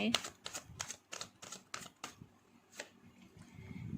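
Tarot cards are drawn and laid out in a rapid series of crisp, close snaps and slaps, then a few sparser placements, with someone talking over them.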